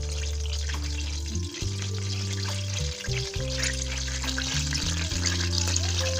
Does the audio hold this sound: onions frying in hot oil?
yes